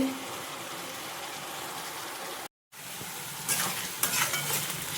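Green chillies sizzling in hot oil in a pot for gongura chicken, a steady frying hiss broken by a brief dropout, then louder bursts of stirring and crackle.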